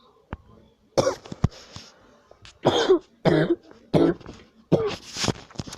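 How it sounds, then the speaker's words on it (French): Several separate coughs and throat-clearing bursts from one nearby person with a cold, spaced irregularly with short quiet gaps between them. "Désolé si je tousse parce que je suis un peu enrhumé."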